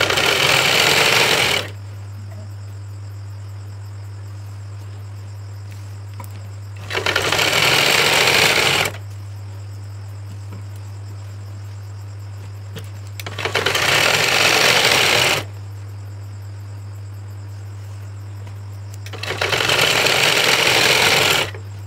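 A sewing machine stitches fabric in four loud bursts of rapid mechanical chattering, each about two seconds long, separated by pauses filled with a steady low electrical hum, close and with no talk.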